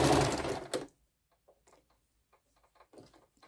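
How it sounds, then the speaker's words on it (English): A sewing machine stitching small fabric squares together runs loudly in a steady whir for about a second, then stops, leaving only faint handling clicks and rustles. "this is just simple sewing little ones together"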